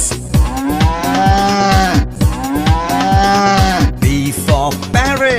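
An ox lowing, several long, deep moos one after another, loud and close, each call swelling and falling with short gaps between.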